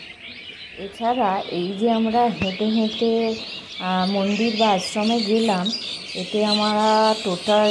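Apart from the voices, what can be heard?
birds singing and chirping outdoors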